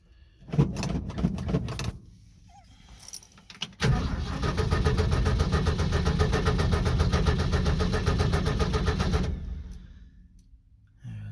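A 1965 Ford F100 engine cranks in a few short bursts, pauses, then catches and runs steadily for about five seconds at a loud, close idle before shutting off, with a faint jangle of keys.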